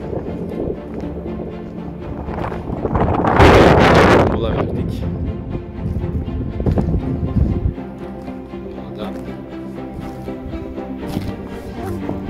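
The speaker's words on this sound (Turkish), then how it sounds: "Rüzgar var." Wind buffets the microphone on a mountain ridge near İt Ulumaz Dağı in Niğde during a dawn summit hike, a loud rumbling roar that swells in the middle and then settles into a steady rush.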